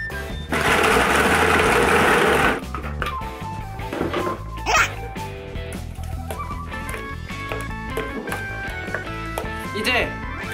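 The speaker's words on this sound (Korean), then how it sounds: "믹서기로 갈아줄게요." Blender loudly whirring as it crushes ice with milk, yogurt and sugar for a smoothie, a dense grinding roar for about two seconds before stopping, followed by quieter clinks and background music.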